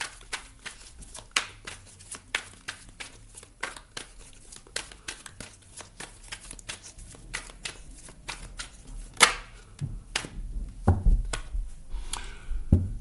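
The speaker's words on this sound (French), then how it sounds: "Je vais rajouter une carte ou deux pour le relationnel et sentimental ici pour vous" Tarot cards are shuffled and drawn in quick, crisp riffles and flicks, with papery snaps and taps close by, a few louder thumps as cards are laid down near the end.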